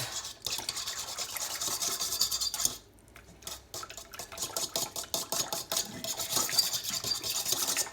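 A spoon stirs yeast and sugar into water in a cup or bowl while making bread dough, giving a close, steady scraping and clinking swirl that continues nearly throughout, with a brief pause near the middle and no talking.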